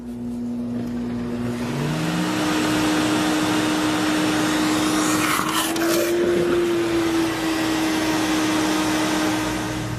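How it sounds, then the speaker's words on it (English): A Sirena water-filtration vacuum cleaner runs steadily during wet pickup, a loud continuous motor whine with a sustained tone that rises slightly in pitch midway, close and alone without talk. "The Sirena will also function as a wet pickup vac."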